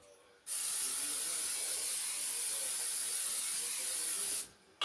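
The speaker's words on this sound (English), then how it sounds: "give them a spray" Coconut oil sprays from an aerosol can in one steady, close, loud hiss that lasts about four seconds and then cuts off, with no voices.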